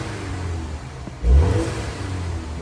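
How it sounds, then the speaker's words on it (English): A 2023 BMW X1 xDrive28i engine idles, then gets a sharp rev that swells loudly with the turbo kicking in before settling back to a steady hum, heard up close without talk. "Let's give it a few revs."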